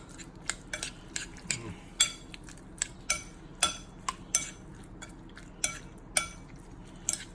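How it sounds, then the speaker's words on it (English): A utensil clinks against a bowl while fresh pico de gallo with black pepper is mixed, giving a steady series of sharp, light taps about twice a second, close and fairly quiet, with no talk. "Now, I'm gonna give this a good mix."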